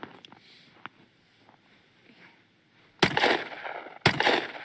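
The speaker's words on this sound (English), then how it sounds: "So this is her first time firing a pistol, everyone." Two sharp, loud pistol shots ring out close by at an outdoor range, a second apart, following a few seconds of quiet background.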